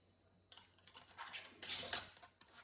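A lid is fitted onto a container of homemade cranberry sauce and twisted tight, making a close, quiet run of small clicks, scrapes and rattles that peaks in a brief burst of friction before stopping.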